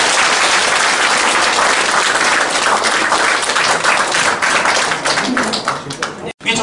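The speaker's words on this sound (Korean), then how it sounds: "큰 박수 부탁드립니다." Loud, sustained audience applause fills a political party appointment ceremony in Dalseong, Daegu, steady dense clapping that thins and drops out near the end.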